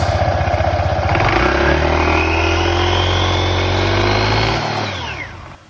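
A Honda PCX 160 scooter engine revs at half throttle, climbing in pitch to a steady loud drone close by before dropping away as the throttle is released.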